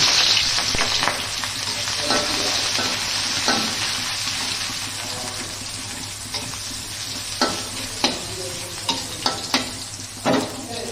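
Onions frying in a pan as the base for an egg curry, with a loud steady sizzle and stirring scrapes, and a few sharper clacks of a utensil toward the end.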